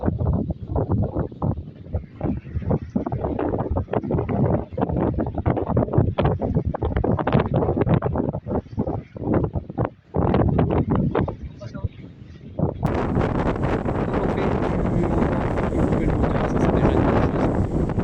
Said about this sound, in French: le vent s'est levé